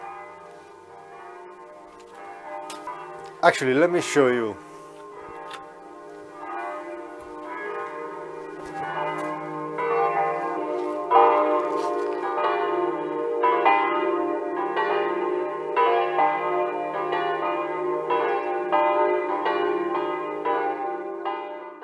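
Church bells peal loudly and at length at midday on a Sunday, a dense, continuous stream of overlapping rings. A voice briefly speaks near the start.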